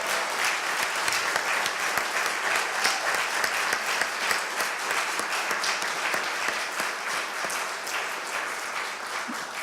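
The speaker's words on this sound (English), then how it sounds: "I think y'all can applaud to that." Audience at a University of Alabama College of Arts and Sciences gift announcement applauds in a steady, full wave of clapping from a large room, holding even loudness and fading only slightly at the end.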